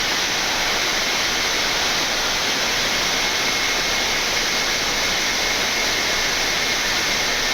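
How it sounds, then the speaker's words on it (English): Inside a Boeing 787-8 cockpit, the left engine starts up as a steady, loud broadband roar and whine that fills the cabin evenly, with no voices over it. "Starting left engine, please."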